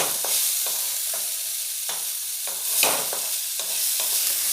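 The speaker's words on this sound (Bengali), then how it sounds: "এবারে দেব হলুদ। দিয়ে খুব ভালোভাবে ভেজে নেব।" Papaya stir-fries with salt and turmeric in a hot pan, a continuous sizzle punctuated by a regular rhythm of scraping stirs, about two per second, close and fairly loud.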